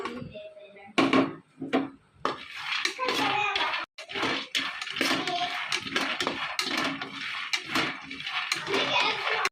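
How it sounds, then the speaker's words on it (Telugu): Peanuts being roasted and stirred in a pan on a stove, producing rattling, scraping clatter of nuts and a spoon against metal in irregular bursts, close and fairly loud. "పెనం అదే పెట్టుకొని పల్లీలు వేపుకోండి బాగా"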